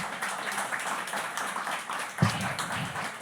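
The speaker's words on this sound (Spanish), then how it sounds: "Fuerte aplauso para él" Audience applause for a poetry reader at a social poetry event, with moderate scattered clapping and a few sharper claps near the end while faint voices murmur underneath.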